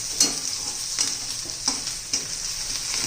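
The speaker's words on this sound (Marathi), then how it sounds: "कढीपत्ता घातला, अर्धा 1 मिनिट आपण हे परतून घेणार आहोत." Chopped curry leaves sizzle in hot oil with softened onion while being stirred for a spicy bitter gourd curry with gram flour; a steady frying hiss runs throughout, broken by a few soft stirring scrapes.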